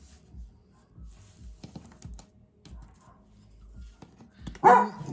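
A dog barks loudly a few times near the end amid quiet indoor sounds, preceded by soft rhythmic tapping and low muffled thumps.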